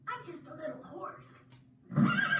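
A horse whinny sound effect rises and falls for over a second, followed by a louder, rougher burst near the end of the clip.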